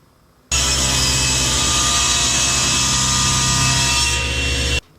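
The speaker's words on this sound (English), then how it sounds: "we're going to take some red ABS and we're going to take it to the saw and cut it in the thinnest strips we can" Power saw slicing red ABS plastic into thin strips: one loud, steady, continuous cutting whine close up for about four seconds, starting and stopping abruptly.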